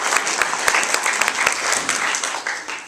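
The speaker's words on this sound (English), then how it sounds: "A round of applause, please." Audience at a Welcome to Night Vale convention panel at Fanime 2015 breaks into loud, close applause, a dense burst of clapping with a few sharper claps that tapers slightly toward the end.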